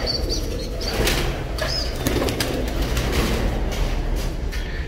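Pigeon chicks flapping their wings being let out during pigeon care, a dense, loud, steady fluttering of wings heard close up throughout, without talking.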